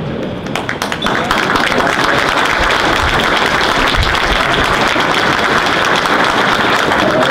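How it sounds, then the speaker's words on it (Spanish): A crowd claps for a musical group at an anniversary celebration of the 6th battalion in Chilpancingo, Guerrero, a loud dense sustained applause that swells early and carries on steadily, with some thumps and voices mixed in. "un aplauso a nuestro grupo musical"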